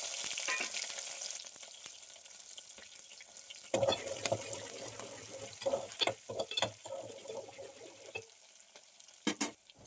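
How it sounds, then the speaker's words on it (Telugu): Spices crackle and sizzle in hot oil for tempering dal, a steady frying hiss with a burst of sharp pops and spatters midway, close and fairly loud, no voices. "ఇంకా దీన్ని తిరుగుమూత అయితే పెట్టేసుకుంటున్నా."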